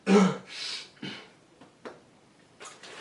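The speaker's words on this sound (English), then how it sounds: "Annoying cough." A few harsh, throaty coughs in quick succession, close and fairly loud, then quieter rustling.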